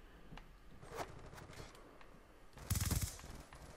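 Video game gunfire from Black Ops 2 in a free-for-all private match: a faint, fairly distant rapid burst of automatic shots near the end, with scattered quieter shots and scuffs before it.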